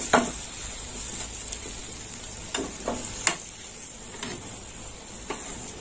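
Rohu fish curry with mango bubbles in a pan, giving a constant close hiss. A few sharp clinks and scrapes of a utensil against the pan break in now and then.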